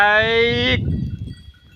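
A farm animal lets out one long, loud bleating call, followed by quieter shuffling and rustling noises nearby.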